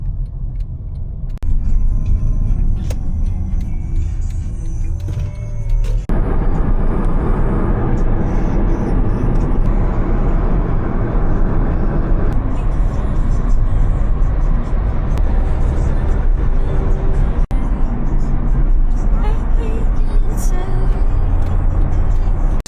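A car being driven along a road in Dubai, a steady low engine and tyre rumble that holds loud and close for the whole stretch, with a brief quieter moment near the start before the drive settles in.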